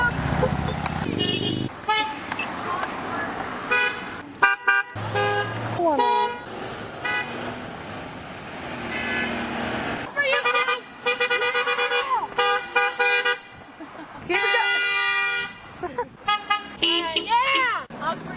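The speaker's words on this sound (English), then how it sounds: "Honk for YouTube." Car horns honk repeatedly at a roadside, a busy mix of short toots and longer blasts from several vehicles, loud and fairly near, with people talking and shouting in between.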